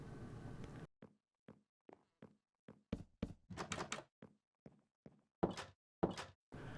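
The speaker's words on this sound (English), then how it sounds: "And then we can add 2 oak doors in the center." Blocky wooden oak doors being placed in Minecraft, a series of short hollow thunks in an uneven rhythm, some soft and some louder, close and alone with no talk.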